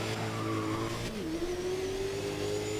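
A race car in the GRID driving game understeers through a corner, its tires squealing in a loud, sustained, pitch-shifting screech over a steady engine drone, with no talk.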